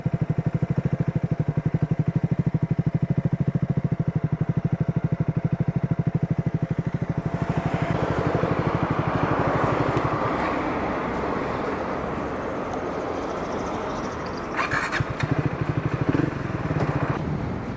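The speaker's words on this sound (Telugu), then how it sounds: "మీకు ఎంతవరకు వినిపిస్తుందో నాకు తెలియదు కానీ ఇది దీని సైలెన్సర్ సౌండ్." A Triumph Speed 400 motorcycle idles with a steady, loud, throbbing exhaust note from its silencer, then the engine sound shifts to a rougher, broader rumble before briefly picking up again, heard close by with no talking.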